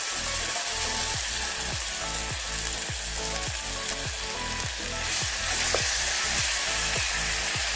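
Garlic sizzles in a pan for bistek, a steady frying hiss with a regular rhythmic scraping stir repeating about every half second, close and fairly loud.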